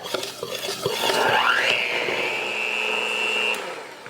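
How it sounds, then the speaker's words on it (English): An electric mixer whirs through wet carrot cake batter, its motor pitch climbing then holding a steady whine before winding down, loud and close with no talking. "go ahead and mix this with a mixer and not drive everyone crazy"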